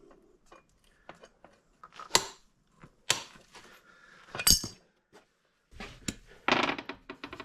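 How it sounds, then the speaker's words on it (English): A torque wrench tightens a bolt on a Sea-Doo Sportster 1800 jet boat, producing a series of sharp ratcheting clicks and metallic knocks in scattered bursts, close and fairly quiet with pauses between. "Now we'll go ahead and torque this down to 90 foot-pounds."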